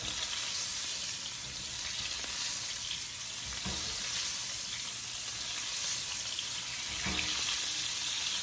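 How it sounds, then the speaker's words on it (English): Brown butter sizzles steadily in a hot pan during basting, a continuous close frying hiss with a couple of soft spoon scrapes, no voices. "I'm going to go ahead and start basting it. It's hot. So now we got brown butter."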